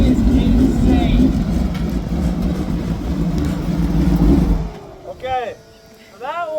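A twin-engine mini truck on nitrous roars in a loud, sustained launch for about five seconds, then cuts off abruptly, leaving short chirps and quieter bursts.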